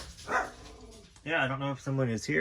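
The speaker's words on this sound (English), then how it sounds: "Sorry about my dogs in the background" Several dogs bark and yip in the background of a home, in a few short clustered bursts, while a person speaks close by.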